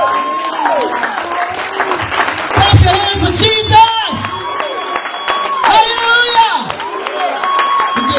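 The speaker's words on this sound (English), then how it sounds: "Clap your hands for Jesus." A church congregation claps and cheers for Jesus, loud sustained applause with shouts and whoops rising in two swells, voices calling out over the clapping.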